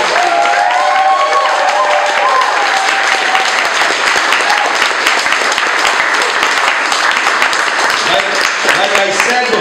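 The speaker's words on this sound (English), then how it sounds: "let's hear a round of applause for every single one of these candidates." Audience applause and cheering for island council election candidates, a loud, sustained roar of clapping with shouts and whoops mixed in, constant in level throughout, with voices calling out over the crowd.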